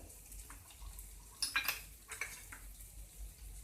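A spoon scrapes and clinks in a pan while cooked tomato is stirred with red chili powder, turmeric and garam masala, giving a few sharp metallic taps and soft scraping strokes over a faint, quiet background.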